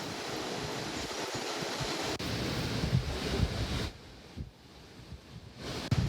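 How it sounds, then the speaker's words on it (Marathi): A steady, dense roar of rushing water from Dabhosa Waterfall in Jawhar, Palghar, fills the whole clip, loud and broadband, easing slightly near the end. "ठाणे जिल्ह्यातील सर्वात मोठा धबधबा हा मानला जातोय"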